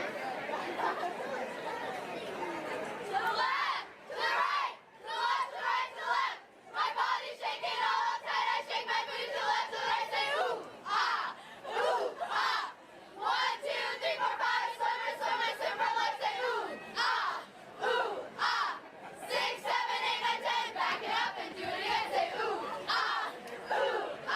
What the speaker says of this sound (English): They're going to do their famous cheer for everyone.